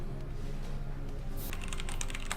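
Keys clack in quick, uneven bursts on an NZXT mechanical keyboard with red switches, close up, starting softly then becoming a busier run of strokes.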